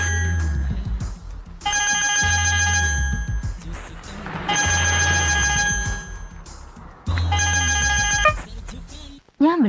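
An electronic phone ringtone repeats in three separate ringing bursts of a bright tonal melody, each a second or more long, for a call that goes unanswered. Low voice-like sounds run between the bursts.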